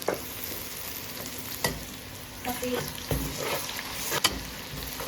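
Garlic and ginger frying in oil with browned onion for biryani give a continuous soft sizzle, punctuated by several sharp clicks and scrapes from stirring in the pan.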